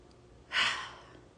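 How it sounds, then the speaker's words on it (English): A single deep breath drawn in and slowly released, close and soft, standing alone against a quiet background. "Let's do one more deep breath in."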